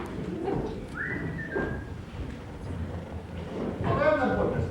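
A short rising whistle rings out under ongoing conversation, followed a few seconds later by another brief warbling whistle.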